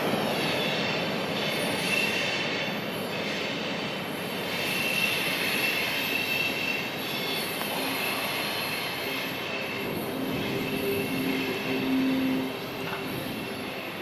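Freight train cars roll steadily past on rails, a continuous rumbling clatter with metallic wheel squeal and ringing tones layered over it, fairly close and loud throughout.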